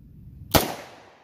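A single sharp, loud 10mm handgun shot from a Smith & Wesson 1006 firing 180-grain SIG Sauer ammunition outdoors, with a short echoing tail.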